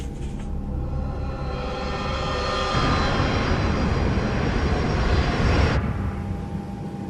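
A passenger jet flies on a Berlin-to-Zurich route, its engines giving a loud, steady roar that swells partway through and then drops to a softer rumble.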